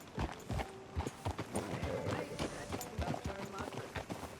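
Horse hooves clip-clop in an irregular walking rhythm in the Red Dead Redemption 2 video game, close and fairly loud, with a whinny and low talk mixed in.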